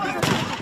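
Gunfire amid fighting over aid supplies in Gaza, a single sharp burst rising out of background noise and fading within a fraction of a second.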